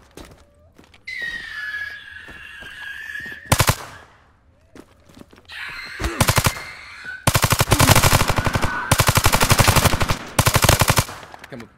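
Gunfire in a zombie survival shooter game in pre-alpha: a single shot, then bursts and long stretches of rapid automatic fire, loud and close, with game ambience and a faint whine between volleys.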